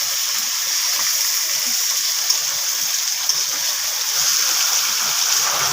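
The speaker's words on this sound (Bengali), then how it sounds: "আর আম এগুলো দিয়ে ভেজে নিচ্ছি।" Mango and elephant apple (chalta) pieces fry in a pan for a pickle, giving a steady, even sizzling hiss that runs unbroken throughout with no voices.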